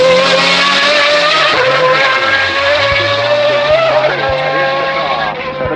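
A Pagani rear-wheel drive V12 car, a road-legal supercar at a hill climb, screams past close and loud, its engine note holding a steady high wail with slight pitch shifts throughout.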